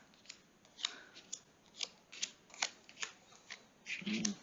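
Playing cards being shuffled for a Siege of Vienna 1683 board game: a series of short, crisp riffling bursts in an irregular rhythm, close and fairly quiet, ending in a slightly fuller flurry.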